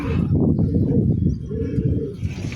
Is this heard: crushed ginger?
no